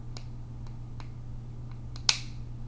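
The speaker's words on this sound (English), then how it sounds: "You should hear a little snap." A single small, sharp metallic snap as a pin locks into place in a Taurus PT111 pistol, against a steady low hum, preceded by a few faint ticks.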